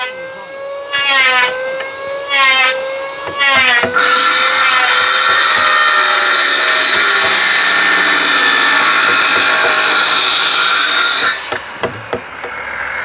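Power tool biting into wood at a construction job, with a few short whining bursts followed by a long continuous grinding, rasping run before it stops and trails off into scattered knocks.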